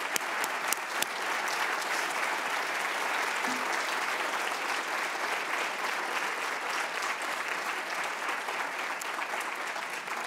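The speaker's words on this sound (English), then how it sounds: "let's give her a great round of applause" Sustained audience applause at a 2018 Provost's convocation, a dense, steady wash of many clapping hands that holds evenly for about ten seconds.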